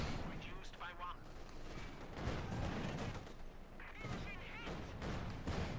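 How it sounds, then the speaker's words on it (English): Field guns and tank guns blasting away in a Company of Heroes 2 battle, with repeated heavy booms and gunfire bursts in irregular clusters, loud and close throughout. "Field guns and tank guns, they just blasting away."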